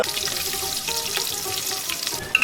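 Onions and chilies hitting hot oil for a beef curry, a loud, dense, continuous hiss and crackle of frying, close up and steady throughout, with a sharp clatter right at the end.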